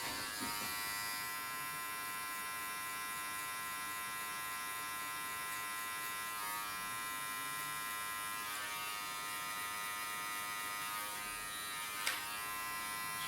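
An electric hair clipper fitted with a 0.5 guard from Chris & Sons buzzes steadily and close while cutting hair in a pompadour haircut, a constant high whine with small shifts in tone as it moves through the hair.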